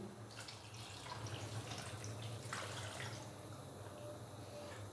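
Steady running water pours continuously into a pot of chicken karahi, a constant splashing wash that swells slightly in the middle and holds through to the end.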